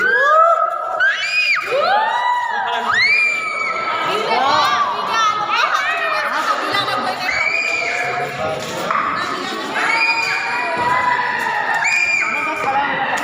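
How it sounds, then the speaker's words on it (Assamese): Crowd of people shouting and calling out at the Qutub Minar, their voices echoing loudly and continuously, with horse whinnies and children's shouts mixed into the busy din. "সেইটো আৱাজটো মানে গুঞ্জি যায়।"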